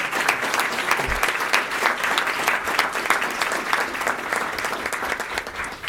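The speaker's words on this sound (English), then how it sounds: "if we can give our 9 recipients an applause for that" Sustained applause from a school board meeting audience honoring nine student award recipients, dense steady clapping filling the room for several seconds without talk.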